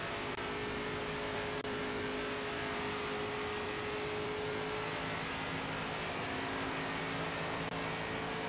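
An ARCA race car engine in the NASCAR 25 video game, a sustained droning hum with steady tonal whine held at a constant level throughout, fairly quiet and with no talking.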